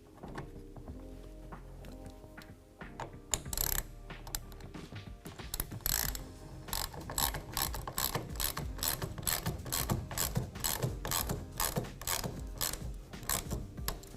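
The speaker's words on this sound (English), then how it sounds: "we can go ahead and tighten this down using a 1/2 inch" A ratchet with a 1/2 inch socket tightens a clamp on a Gator SR1 Pro roll-up tonneau cover fitted to a 2020 Ram 2500, making close, rapid, continuous clicking that starts after a quiet moment and goes on steadily.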